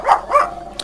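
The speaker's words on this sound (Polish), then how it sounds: "już nie ma sensu mówić, bo pies zaczął szczekać" A dog barking twice in quick succession, close and loud, followed by a brief softer yip, with no talk over it.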